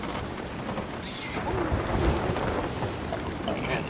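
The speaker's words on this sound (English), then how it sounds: "This is just the thunderstorm." Steady rain and low thunder rumbles from a storm at sea in the Sea of Thieves video game, a dense continuous wash of noise with swelling surges, fairly loud and unbroken.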